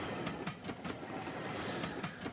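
Steady rumbling rail noise with periodic rhythmic clacks, like a train rolling along the tracks, heard from close by with no talking.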